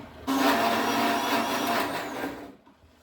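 Electric mixer grinder grinding spices in a home kitchen, a loud steady motor whine that starts abruptly, runs for about two seconds, then winds down and fades, with no talking.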